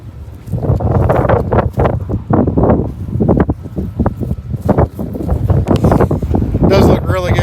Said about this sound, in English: Man, that's crazy wind.